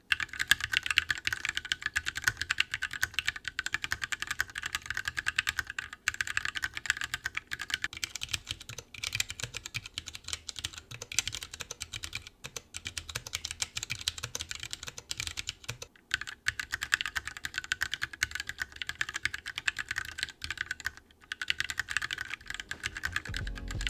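Fast, steady typing on a split Corne mechanical keyboard fitted with tactile switches. The key clicks are quiet and close, a continuous patter with short pauses, and no talking.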